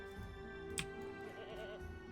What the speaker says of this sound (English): There's a goat somewhere.